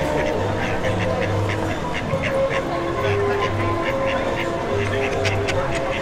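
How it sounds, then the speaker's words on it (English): A duck quacks repeatedly in short bursts at an outdoor Disneyland setting, the calls moderately near amid steady crowd and ambient noise, with people talking in the background. "can you hear that duck making his duck sounds? AKA quacking."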